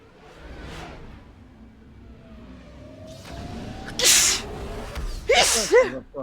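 Two sharp sneezes burst out close to the microphone, the second followed by a brief nasal sniff, over a low game soundtrack and quiet background drone.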